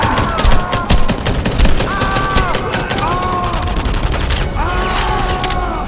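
Rapid automatic gunfire in the video game Enemy Front during a church defense battle, dense overlapping bursts crackling continuously, loudest at the start, with whistling tones and a player's voice beneath.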